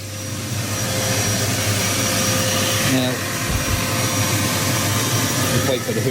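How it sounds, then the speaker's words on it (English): A Hoover vacuum cleaner runs continuously while sucking up water. The motor gives a loud, steady whine and roar, and its pitch dips briefly partway through. "wait for the hoover to click off a bit, actually"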